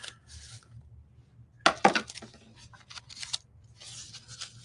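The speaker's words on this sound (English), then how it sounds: "So when I do detail cutting, I like to use little small scissors like this." Small detail scissors cut a Halloween paper napkin in a fussy-cutting craft session, giving a cluster of crisp, close snips and rustles. No one speaks.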